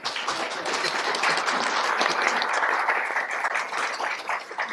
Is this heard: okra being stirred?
no